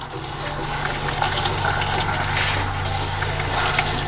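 Steady rushing of water pouring out of a boat's system during winterizing, a continuous broadband gush with a low hum underneath, fairly loud and unbroken throughout.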